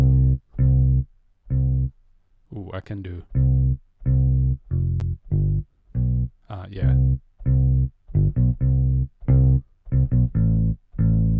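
Electric bass playing a steady line of short, punchy low notes in a regular rhythm, with a few brief spoken interjections over it.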